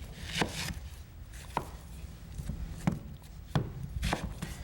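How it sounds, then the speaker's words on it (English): A knife chops an onion on a board, with about six crisp, irregular strikes spread over a few seconds, close and clear with no talking. "So you chop up that onion."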